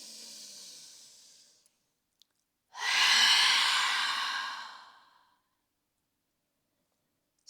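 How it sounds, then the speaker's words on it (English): A long, deep breath pushed out through an open mouth during a morning yoga flow, a soft airy hiss swelling and fading over a couple of seconds after a quieter earlier breath, close and alone. "Open up the mouth, exhale."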